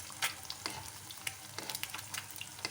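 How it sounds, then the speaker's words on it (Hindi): An egg fries in oil in a pan over medium heat, a steady close crackling sizzle with quick spatters and pops throughout, no voices. "अंडा हमारा फ्राई हो रहा है। चम्मच की मदद से ऑयल को ऊपर डालेंगे"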